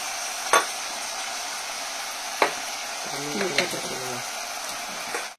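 Chopped tomatoes and brinjal sauté in a clay pot with a steady, close hiss, marked by a few sharp spoon knocks and a brief murmured voice partway through.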